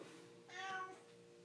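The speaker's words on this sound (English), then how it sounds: "That's my cat." A pet cat gives a single short, faint meow over a quiet indoor background.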